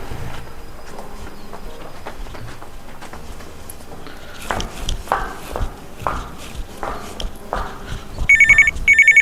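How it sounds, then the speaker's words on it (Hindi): A phone rings indoors, several electronic trills that become loud and insistent near the end, preceded by soft footsteps and quiet room noise. "यार ये फोन किसका आ गया?"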